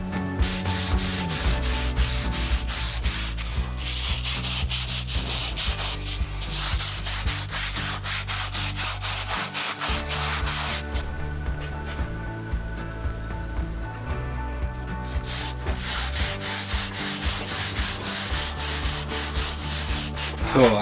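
Steady, continuous sanding on wood during renovation of an old abandoned stone house in Portugal, a close rasping rub that runs the whole time with brief shifts in pressure and faint birdsong behind.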